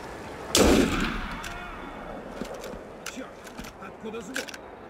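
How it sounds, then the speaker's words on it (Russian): Gunfire in an Assassin's Creed game, a loud sharp blast at the start that rings and decays, followed by scattered softer clicks and mechanical rattles as the shot fades. "кто стреляет? Выстрелы."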